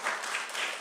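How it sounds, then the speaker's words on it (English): Applause for school committee candidates at a candidates forum in Malden: a short, dense burst of clapping from a crowd, steady and fairly loud, with no break. "I'd love to give everybody up here a wonderful round of applause."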